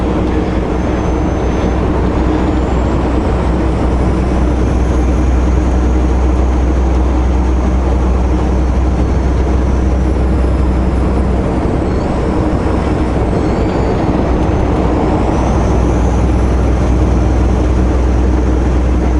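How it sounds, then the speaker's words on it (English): Traffic jam on a road in the Lower Mainland, heard from inside a car as a constant low engine and road rumble with faint higher tones, steady and loud throughout. "this feels like a normal traffic jam before COVID-19"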